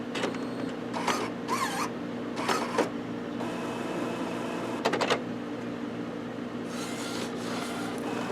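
An Epson Artisan 1430 printer with an ink supply system initializing, giving soft whirring motor passes, brief mechanical clicks and sliding rubs that come in separated bursts over a low steady hum.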